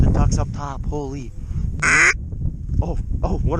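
Ducks call in flight during a blizzard duck hunt in South Dakota, a few close nasal quacks and honks in quick bursts amid wind noise and nearby voices.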